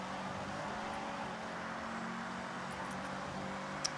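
A Mazda MX-5 engine drones steadily in the Forza Horizon 6 racing game, a continuous mid-level hum with no clear revs or gear changes and no talking.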